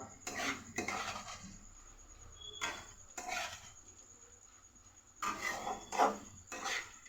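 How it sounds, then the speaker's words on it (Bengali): Metal utensil scraping and clattering in a pan while gram flour boondi is stirred continuously over low gas flame, in several bursts separated by short pauses, close and fairly quiet, with no talking. "অনবরত নাড়তেই থাকবো, নাড়তেই থাকবো"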